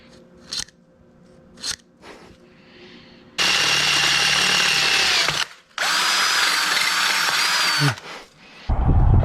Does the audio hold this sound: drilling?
yes